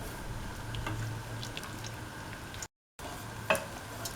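Faint cooking sounds from a pan of vermicelli and spring onion pieces for a split chickpea soup, with low simmering hiss, a few light drips and one sharper clink near the end, interrupted by a brief gap.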